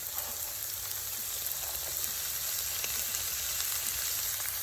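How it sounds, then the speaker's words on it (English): Rice and vegetables sizzle and crackle in a hot pan for vegetable fried rice, a steady close frying hiss dotted with small pops and spits, with no talking. "We're going to saute this for a few minutes until we start creating a nice crust."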